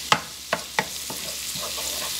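Pre-cooked kielbasa sausage lightly cooking in a pan, a soft sizzle broken by a few sharp clacks of a utensil against the pan, close and without speech.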